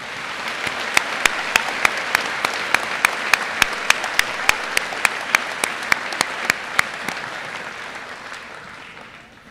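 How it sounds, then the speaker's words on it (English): A graduation ceremony crowd gives a sustained round of applause, a dense, even wash of clapping that swells and then fades toward the end. "please, let's give them a special round of applause."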